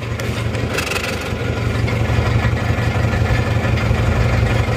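An older-generation pre-EGR Isuzu Panther diesel engine idles roughly and unevenly, with a steady low throbbing and pulsing clatter, close and loud, with no talking.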